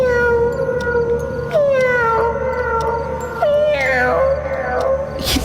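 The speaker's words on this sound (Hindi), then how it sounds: "सोमी ने अपनी आंखें बंद की तो उसे किट्टी के रोने की आवाज सुनाई दी।" A wailing, drawn-out cat cry repeats several times, rising and falling in pitch like a caterwaul, fairly loud and close with no talking.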